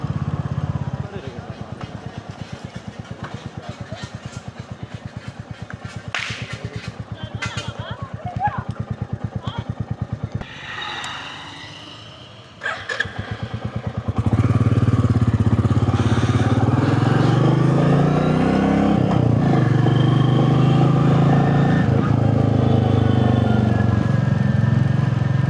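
Bullet motorcycle engine running steadily while being ridden, a loud continuous low drone with rising revs, speech heard alongside.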